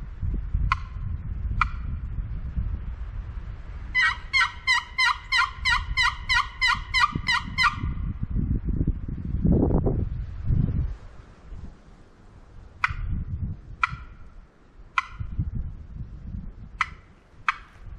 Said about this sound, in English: we heard a bird gobble back here